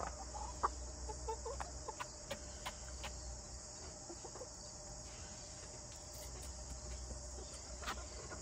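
Chickens and a rooster cluck in short scattered bursts at a moderate distance, over a steady high chirping of crickets, with no talk.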